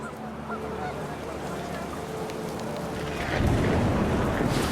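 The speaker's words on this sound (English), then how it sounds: "Panicked geese appeared and quickly went." Several geese honk in the distance over a steady outdoor rumble, which grows louder and rougher toward the end.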